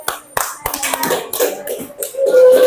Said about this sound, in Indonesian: beri tepuk tangan untuk Arif